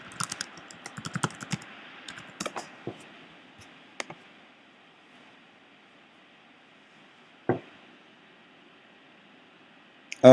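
Computer keyboard typing in a quiet room as login details are entered, with bursts of clustered keystrokes early on, then sparse isolated clicks and long pauses.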